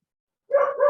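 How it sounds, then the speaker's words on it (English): A neighbour's dog gives a short bark or yip, fairly close and loud, after half a second of silence. "You have a doggy?"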